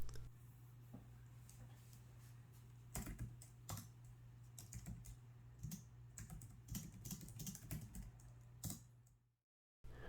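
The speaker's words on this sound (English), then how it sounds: "Not as loud as I would like the keyboard to sound" Soft, quiet keystrokes tap in irregular bursts on a Logitech MX Keys computer keyboard, with occasional louder clicks over a low steady hum, ending in brief silence.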